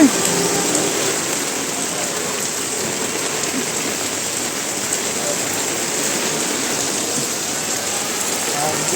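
Heavy rain pouring down on a street, a dense, loud, unbroken roar of drops hitting surfaces that lasts throughout, with a voice faintly beneath it.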